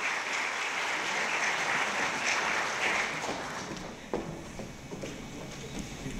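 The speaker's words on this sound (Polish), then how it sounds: "Wielkie brawa dla Kuby." Audience at a youth-achievement awards gala in Mielec applauds steadily, a dense, loud wash of clapping that runs throughout, dipping slightly near the end with a few sharper individual claps standing out.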